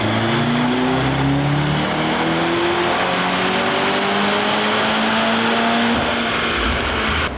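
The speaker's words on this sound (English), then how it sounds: "Here's the second baseline run on a 2025 C63S AMG." A 2025 Mercedes C63S AMG running a baseline pull on a dyno, a loud sustained engine drone rising steadily in pitch through the gears with a whining tone above, cutting off abruptly near the end.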